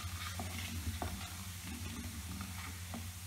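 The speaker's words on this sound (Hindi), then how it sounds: "अब हम इसमें मसाले का छौंका लगाएंगे" Whole spices such as asafoetida, mustard seeds, fennel and cumin sizzle in hot oil for mango pickle, a dense continuous frying hiss with occasional light stirring clinks.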